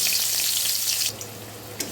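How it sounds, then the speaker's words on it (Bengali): Eggplant pieces frying in oil left over from fish in a pan, a dense hissing sizzle that drops sharply about halfway through to a quieter crackle, close and with no talk. "তো এবার ওই তেলেই বেগুনগুলো হালকা একটু ভেজে নেব।"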